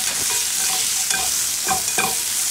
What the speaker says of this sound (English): But get these onions in there, get those nice and sauteed up.